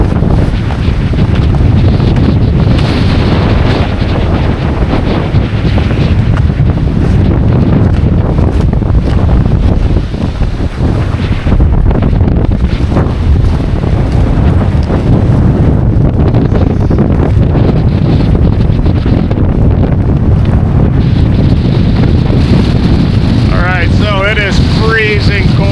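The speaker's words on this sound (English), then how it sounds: "Holy, that wind coming off the lake is not pleasant." Hurricane-force wind coming off a lake batters the microphone in a loud, constant roar with rough buffeting gusts, and brief voices are partly buried beneath it.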